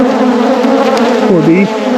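Honey bees buzzing close by during a beekeeper's hive check, a steady dense drone with one bee's pitch wavering near the end, heard alone without talk.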